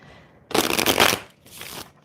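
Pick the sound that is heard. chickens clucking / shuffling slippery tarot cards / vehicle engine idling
shuffling slippery tarot cards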